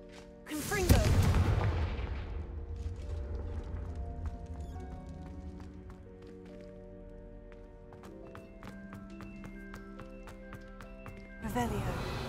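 A Confringo blasting spell in the video game Hogwarts Legacy sets off a loud explosion near the start. Chiming magical tones and scattered clicks follow, and a second burst comes at the end.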